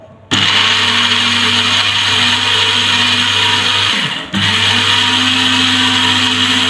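A small electric spice grinder whirs steadily as it grinds ajwain seeds, a loud continuous motor whine with one brief dip partway through before it resumes at full speed.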